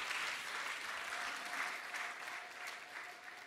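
A church congregation claps steadily together during a sermon, a continuous patter of applause at moderate volume that fades slightly toward the end.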